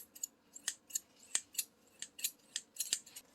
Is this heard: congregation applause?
no